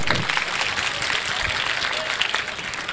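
An audience at a community educational guidance event in Maharashtra claps together, producing a dense, steady applause that stays fairly even for a few seconds.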